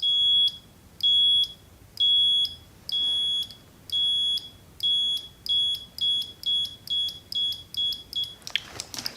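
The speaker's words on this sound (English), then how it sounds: "Beep of the ohm meter." Ohmmeter continuity beeps ring out while a camper heater's switch contacts are tested: a series of short, loud electronic tones repeating at a quickening pace, alone without talk.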